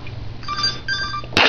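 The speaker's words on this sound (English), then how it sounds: "I think it's ringing." A shoe-shaped novelty telephone rings with two short electronic trill bursts, close and fairly loud over a low steady hum, cut off by a loud noise burst at the end.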